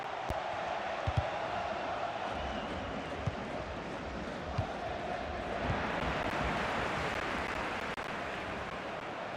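A football stadium crowd at the Santiago Bernabeu during a Real Madrid match against Real Valladolid, a broad steady roar from a distance with a few sharp thuds, swelling slightly midway.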